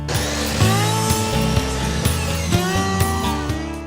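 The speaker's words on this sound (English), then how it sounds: "So we're going to take them back to the saw and shave just a little bit off." A saw shaves a little off wooden side rails for a dorm loft shelf, giving close, rapid, rhythmic buzzing strokes with repeated tonal pulses throughout.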